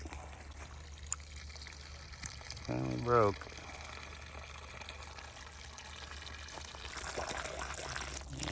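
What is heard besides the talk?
water flowing from pipe into pond like a small waterfall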